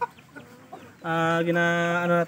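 Aseel Shamo chickens at a breeding farm give a few soft, scattered clucks, then one bird lets out a loud, sustained tonal call held for over a second, close and clear.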